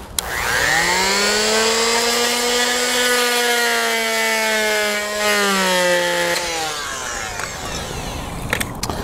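A continuous whining power saw cutting wood trim runs steadily for about six seconds, then drops off into a quieter rasp and a few clicks near the end.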